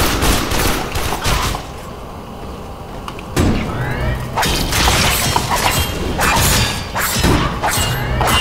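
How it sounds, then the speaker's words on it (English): Shotgun fire in the game Warframe, dense bursts of loud blasts and clattering shots cutting in and out over busy battle noise, with a voice talking at times. "Oh, shotgun!"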